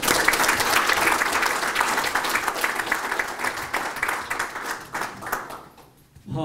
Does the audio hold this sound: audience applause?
yes